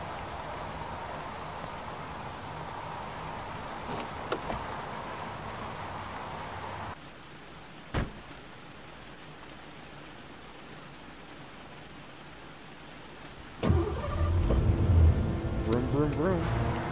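Heavy monsoon rain pours during a driving scene in the video game Heavy Rain, a steady dense hiss that drops away partway through, with a voice talking over it and a louder burst near the end.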